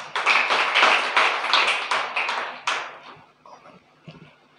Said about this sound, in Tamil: உற்சாகமாய் கரங்களை தட்டுவோம்.